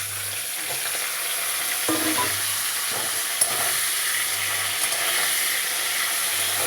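Tender green beans go into hot oil tempered with nigella seeds and green chilies, giving a steady, close sizzle and hiss with occasional stirring scrapes and small pops, and no talking.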